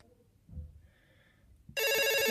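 A telephone ringing while a pizza is ordered from Domino's, a loud electronic ringtone bursting in abruptly after a few soft background thumps and continuing steadily.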